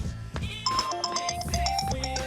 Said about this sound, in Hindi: अरे डार्लिंग का फोन आ गया।